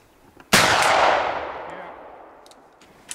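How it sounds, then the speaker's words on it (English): A single sharp, loud shot from a .58 caliber percussion muzzleloader fired at a target at a meat shoot competition outdoors, booming and then decaying in a long echoing tail. "Competitor's gonna shoot the buffalo. He's got a 58 cal percussion gun."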